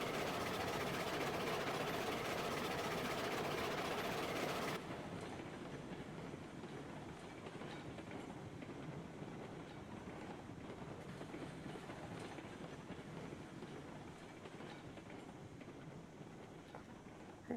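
A train in Railroads Online labors up a grade, its rails giving a continuous rumbling clatter with faint clickety-clack, loud at first and then dropping to a steadier, quieter roll for the rest of the run.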